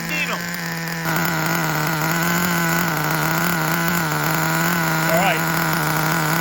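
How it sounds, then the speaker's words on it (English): A Traxxas Revo nitro RC engine runs with a steady, buzzing drone close by. It rises briefly, then holds an even idle, and someone says a few words over the engine. "I gave it some throttle. RPM is settling down."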